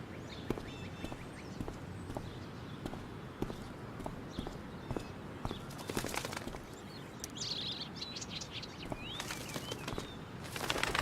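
Birds chirping in the video game Life is Strange: Before the Storm, a faint scatter of short tweets and calls over a low ambient bed, with a few louder bursts later on.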